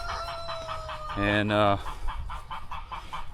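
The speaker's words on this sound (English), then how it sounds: "chickens run loose around here from time to time, the guineas," Chickens and guinea fowl on a farm: a loud rooster crow rises in the middle, with clucking and calls from the flock before and after it, fairly close, and a brief spoken word is heard.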